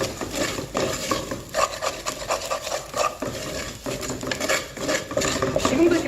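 Rice stir-fried in a hot pot for beef rice porridge, a utensil scraping and stirring the grains against the pot bottom in continuous, uneven rubbing strokes, close and fairly loud.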